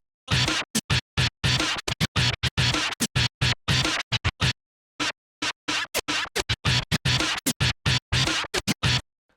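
Turntable drumming on a record, with rapid back-and-forth scratches cutting between sharp stabbed hits in a tight, choppy rhythm, loud and close with brief pauses, no voices.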